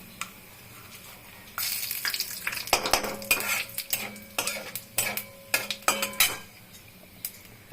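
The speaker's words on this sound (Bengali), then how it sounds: "এখন কালো জিরা দিচ্ছি তেলের মধ্যে ফোড়ন" Nigella seeds crackle in hot oil in a pan for Bengali boroli fish curry, starting quiet then bursting into sharp sizzling pops and utensil clinks, close and lively.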